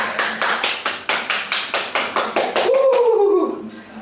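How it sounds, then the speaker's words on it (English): A group clapping together at a home fitness session, about a dozen steady rhythmic claps in unison, followed by a short sliding whistle-like tone and a fading wash of noise. "Please everyone clap."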